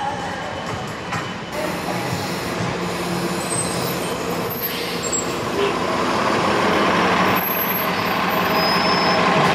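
A bus pulls in at a stop in Orlando for the airport run, its engine rumble and road noise building louder and nearer, with hissing air-brake bursts near the end.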